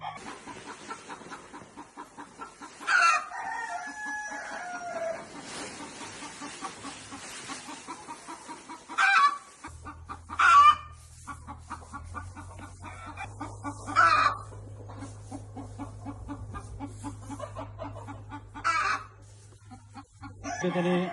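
Broody desi hens sitting on eggs in a partitioned coop make soft, repeated clucks and murmurs, with a few louder squawks and crow-like calls, and a low mechanical hum enters partway through.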